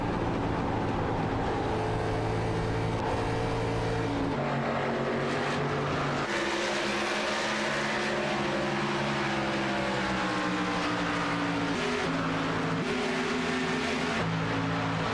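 A race car engine in the iRacing sim at Texas, revving and easing under throttle control through turns one and two, with steady harmonic engine tones that rise and fall over the lap, no voices.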